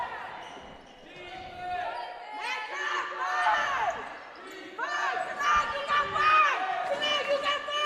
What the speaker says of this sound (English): The crowd getting riled up again.